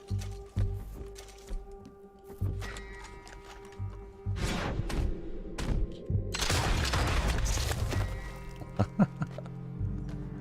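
Shotgun blasts in Red Dead Redemption 2, several sharp booming shots spread out with a dense burst of rapid reports in the middle, heard against quieter game ambience.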